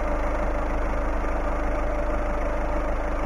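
A Peugeot Partner diesel engine idles with a steady, close, low rumble and a faint rhythmic knock, alone with no talking.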